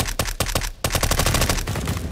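Video game gun firing in rapid automatic bursts, loud and close, with a brief pause before the dense rattle resumes; no talk over it.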